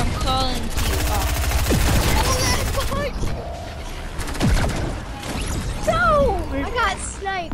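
Sniper fire in a multiplayer video game, sharp gunshot cracks among game effects and other noise, with people talking over it throughout.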